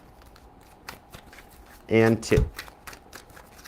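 A tarot card deck is shuffled at close range in a quick riffle-and-bridge burst of rapid crisp flutters lasting about half a second, with a brief voice heard before and faint fan hum underneath.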